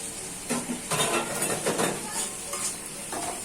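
Onions sizzling in a hot pan as tomato and ginger go in, with steady frying hiss and a few scraping stirs and clinks of a utensil against the pan, close and fairly loud.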